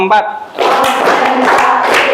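A sixth-grade PE class claps through a counting ice-breaking game, with dense group claps starting after a short spoken cue and continuing steadily, close and loud, mixed with voices.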